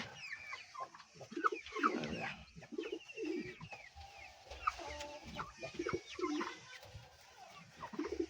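Pigeons perched on a branch at a farm coo and call in a busy, overlapping chorus of soft bird sounds, steady throughout and fairly close.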